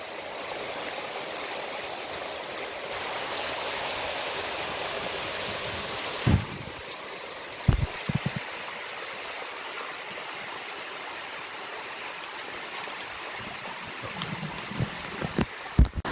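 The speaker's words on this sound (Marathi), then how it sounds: "नदीला पाणी आला, हे देखो कसं लाल लाल पाणी आला वरून." A Konkan river in Vaghave near Dapoli, swollen with red muddy water after torrential rain, gives off a continuous rushing hiss, and a few brief knocks and thumps cut in near the camera.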